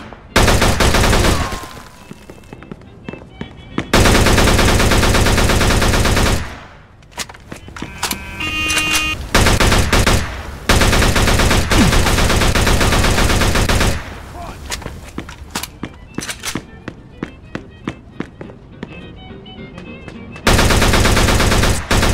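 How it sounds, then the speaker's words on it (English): Bursts of automatic weapons fire from the Mafia 2 video game, loud and close, coming in several long sustained volleys separated by short gaps, with scattered single shots and faint voices in between. "Use of automatic weapons is authorized."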